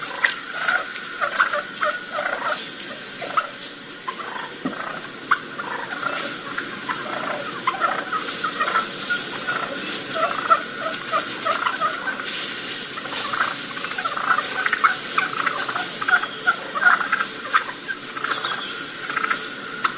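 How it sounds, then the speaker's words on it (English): Wild turkey hens and gobblers give soft, rapid purrs and clucks in a steady flurry of little chirps and patters over a quiet background, close by, with no voices. "these sounds right here that you're listening to are what the turkeys do, hens do, and gobblers do throughout the day"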